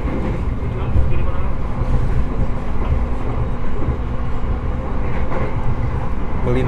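The Argo Bromo Anggrek luxury train runs along rails near the sea on Java's north coast, giving a loud, steady rumble and rolling rail noise heard from inside a carriage, with a voice talking over it.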